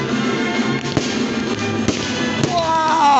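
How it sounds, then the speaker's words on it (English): Fireworks at an outdoor public display in Woking, UK, crack in several sharp bangs spaced about a second apart over a crowd murmur, with a whistling rocket rising near the end. "Crazy firework, amazing firework display."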